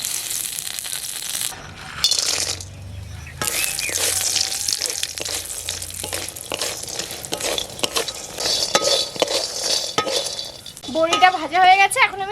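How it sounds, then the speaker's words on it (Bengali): Mustard oil in a hot kadai, a steady sizzle and frying hiss with utensil scrapes and stirring clatter, close and continuous, with a brief whistling tone near the end. "এখন আমি কড়াইয়ের মধ্যে সরষের তেল দিয়ে দেবো।"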